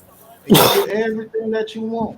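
A sudden sneeze or throat-clearing burst bursts out near a football broadcast commentary, loud and brief, followed immediately by continued talking from the same voice.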